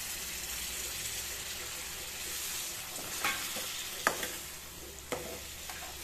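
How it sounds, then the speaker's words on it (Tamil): Tamarind water poured into a hot pan of sautéed onion and tomato, giving a steady sizzling hiss with a few sharp spits and stirring clinks as the liquid hits the pan. "புளி தண்ணி இதில் ஊற்றிக்கலாங்க"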